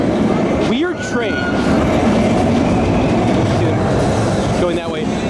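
Roller coaster train at the Wiener Prater amusement park rumbling along its track, a steady loud roar with rattling and brief metallic squeals of the wheels, close and continuous.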